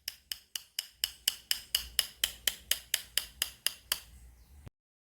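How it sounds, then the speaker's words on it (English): Bamboo sticks from a Trinidad rhythm section are struck in a steady, even rhythm, about sixteen crisp, sharp clacks in a row, close and clear, before stopping abruptly. "But did you guess it was the bamboo sticks?"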